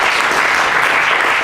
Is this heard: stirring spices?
no